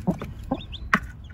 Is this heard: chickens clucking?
yes